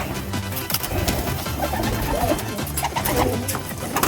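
Pigeons at a pigeon sale coo repeatedly in soft, rolling calls, several birds overlapping close by against a steady background hum.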